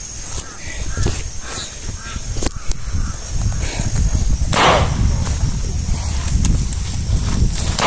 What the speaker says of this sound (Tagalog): bigla pong lumating yung mga uwak